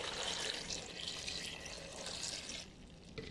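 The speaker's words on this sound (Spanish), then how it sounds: "Le vamos a agregar el agua." Water poured into a cooking pot holding capulin berries, a steady broadband splash and trickle that runs continuously for about two and a half seconds, then eases off and softens.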